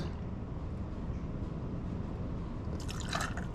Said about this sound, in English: I'm going to pour it right in the mixing beaker